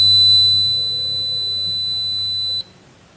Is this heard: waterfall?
no